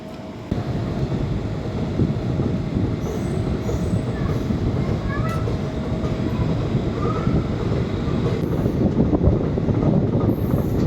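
The Sri Jagannath Express pulls into Jaleswar station at night, a loud, continuous rumble of rolling carriages with scattered high wheel squeals and clanks building toward the end.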